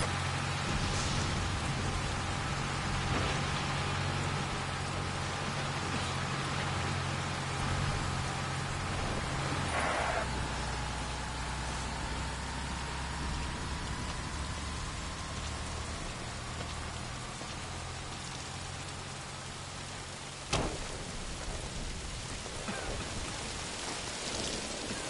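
Steady rain pours throughout a Metal Gear Solid game scene as a dense, even hiss, with low engine-like hum underneath and a brief sharp knock near the end.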